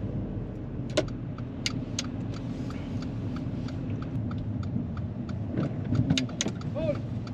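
A car pulls out of a car park on a driving lesson, steady engine and tyre rumble under the cabin with a few small clicks and knocks, and a short voice near the end.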